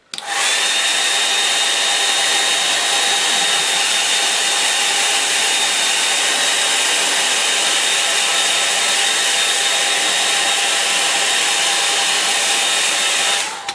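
Hair dryer drying a painting, a loud, constant whirring blow that starts abruptly and holds steady for about thirteen seconds before cutting off.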